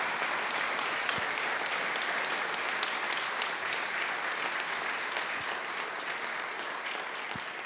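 Audience applause for a military brass band, the Tridentina fanfare, at a concert in Castelfranco Veneto: dense, steady clapping from a large crowd, sustained evenly throughout with a few sharper individual claps.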